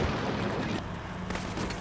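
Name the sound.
grenades fired into a building in Combat Mission Shock Force 2 video game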